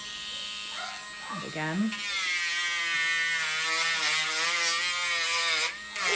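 A buzzing electric nail grinder works on a dog's nails, smoothing and rounding them, with a steady high whine running through most of the stretch and a person talking briefly near the start.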